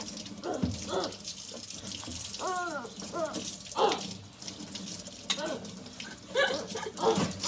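Water runs from a tap into a sink for a child to play in, a steady splashing flow heard under chatter and a voices, with brief louder splashes and knocks.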